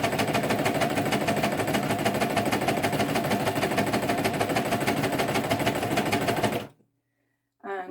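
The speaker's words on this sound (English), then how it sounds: "we're just going to stop before the end with the needle in the Hessian" A sewing machine stitches a needle felting mat through Hessian, running at a fast, even chatter for several seconds before stopping abruptly, followed by silence and a faint brief sound.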